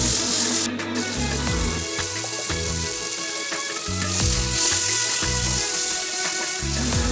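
Tomatoes with salt frying in a pan give a steady, close sizzle throughout, with low bumps and scrapes of stirring breaking in every second or so.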